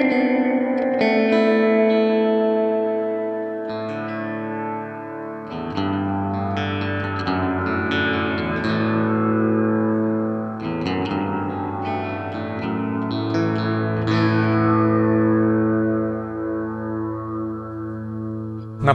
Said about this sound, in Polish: Mocno zmodulowany dźwięk.